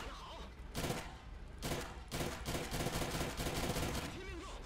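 Rapid bursts of cannon fire from a ZSD63 anti-air gun in War Thunder, loud, close and repeated over a steady low engine rumble.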